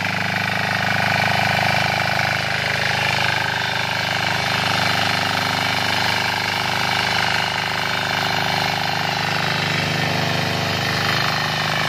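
Trâu Vàng diesel tiller engine running steadily while tilling soil, a loud, close, continuous rough mechanical drone with no pauses.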